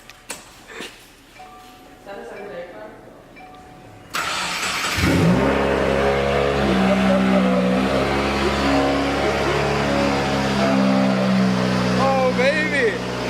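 A 2006 Subaru WRX Wagon fitted with an Invidia N1 exhaust starts up loudly after a few seconds of quiet talk, then idles and revs with a deep, steady rumble, close to the recorder, with voices reacting briefly over it.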